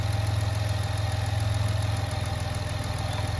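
Chrysler Town and Country minivan engine idling in drive with a stalling-at-stop fault, a steady low rumble with a faint pulsing throb, close and continuous without any voices.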